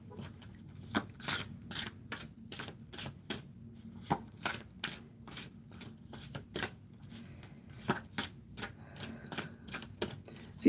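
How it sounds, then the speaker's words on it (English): Tarot cards being shuffled over and over, a run of quick crisp riffling bursts with short pauses between, close up and fairly quiet, no voices. "Seems like I shuffle for a long time because I like to wait for the cards to fly out."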